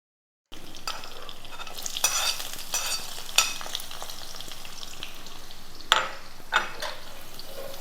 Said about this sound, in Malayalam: ഉള്ളി ഒരു ഗോൾഡൻ ബ്രൗൺ കളർ ആവുന്നവരെ നമുക്കിത് നന്നായിട്ട് മീഡിയം ഫ്ലെയിമിൽ ഒന്ന് ഫ്രൈ ചെയ്തെടുക്കാം.